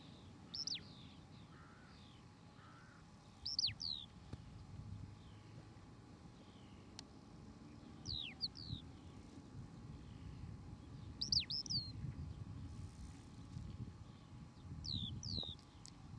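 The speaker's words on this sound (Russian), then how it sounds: "но жаворонок, он есть жаворонок. Красивый песенник. Спевает." Late-season skylark song in open country: brief bird phrases recur several times over steady wind and low rumble, moderately distant and not loud.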